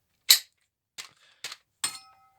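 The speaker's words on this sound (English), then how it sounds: "if you get the mag into it" Airsoft ARP-9 magazine being pushed into the gun: four sharp, isolated plastic clicks and snaps spaced across a couple of seconds, close and crisp against silence.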